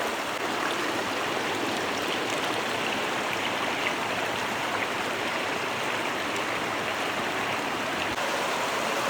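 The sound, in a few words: fast-flowing river water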